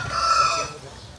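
A rooster crows once, loud and close, with a drawn-out call that fades toward the end.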